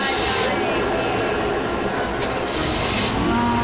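A car engine runs in a steady, fairly loud broadband roar throughout, with voices speaking over it in a tense dramatic scene.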